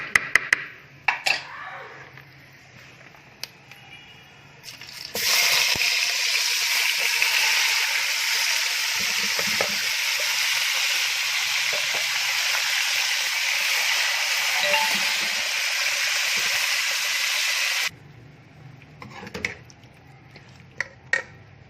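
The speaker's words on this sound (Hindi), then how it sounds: "तो इसको अब हम मीडियम आंच पे तकरीबन 10 मिनट तक भूनेंगे, ताकि चिकन अच्छी तरह से" Marinated chicken pieces sizzling in a pan over a medium flame for a chicken potato curry: a loud, steady hiss that starts abruptly and then runs on for several seconds. Quieter clatter and handling noises come before and after it.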